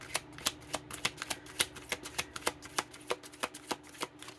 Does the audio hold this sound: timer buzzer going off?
no